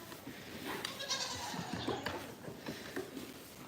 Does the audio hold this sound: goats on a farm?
yes